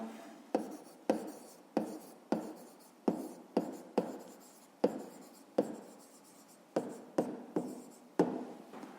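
A pen scratching out a fifth-grade math solution, working the perimeter of a rectangle: about fifteen short, crisp strokes in an uneven rhythm, close and clear with quiet gaps between them.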